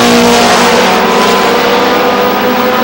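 Stock cars racing around Star Speedway, a dense, loud roar of several engines droning together with steady pitch near the close of a race, continuous and close without any talk.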